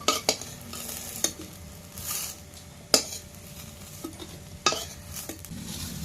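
Banana flower chops (mochar chop) frying in oil in a Sundarban village kitchen, a soft steady sizzle broken by several sharp metallic clinks and scrapes of a utensil against the pan.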